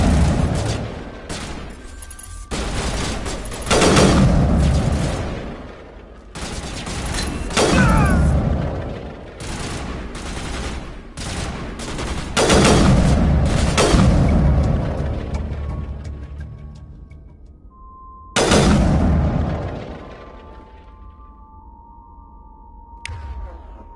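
Bursts of gunfire and booming impacts from a firefight in Mass Effect 1 Legendary Edition come in loud repeated volleys, with short pauses between them and electronic tones near the end.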